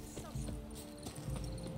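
Horse hooves clip-clop at a steady riding pace in The Witcher 3 game, rhythmic thuds close by, with a voice talking over them.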